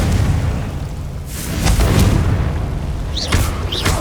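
Explosive booms from the Confringo fire spell in the video game Hogwarts Legacy, with several heavy blasts and bursts over a rumbling background, followed by a couple of sharp whooshing crackles near the end.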